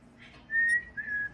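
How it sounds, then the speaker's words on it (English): A person whistles a short, clear melodic phrase, the Kill Bill theme, in a few sustained notes, close and fairly quiet against a soft background hum. "She's doing the Kill Bill whistle and she's never even watched that movie."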